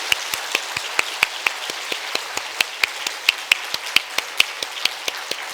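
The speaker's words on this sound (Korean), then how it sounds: "우리 감사와 격려 박수 하겠습니다" Church congregation at a Wednesday evening service applauds, sparse individual claps ringing out in an irregular, fairly steady patter, close and crisp rather than a dense ovation.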